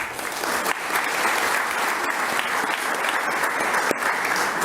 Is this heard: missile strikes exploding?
no